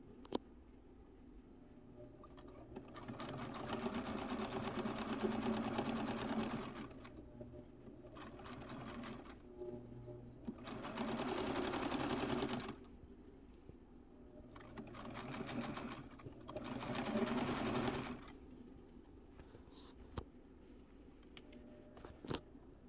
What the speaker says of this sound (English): it's about to come off the sewing machine now